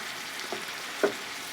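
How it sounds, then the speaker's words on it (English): A steady, close sizzle of pecans frying in butter in a pan, with a couple of soft clicks or taps, no talking. "roast them in some butter, frying it a little bit"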